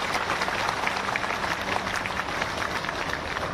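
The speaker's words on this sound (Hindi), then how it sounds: "आदरणीय श्री रविंद्र दीदी से आप सबकी जोरदार तालियों के साथ मैं उनको आमंत्रित करूंगा।" Sustained applause from a large political rally crowd in Bhopal, a dense, steady wash of clapping at an even level throughout with no voices standing out.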